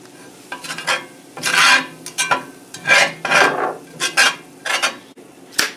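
Flour being stirred into a pan with fried bologna for tomato gravy, a spoon scraping and swishing in repeated strokes with a light sizzle underneath, close and clear with no talking.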